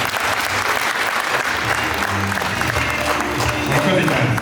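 An audience at a Rwandan wedding claps, a dense, sustained round of applause from a crowd with voices mixed in.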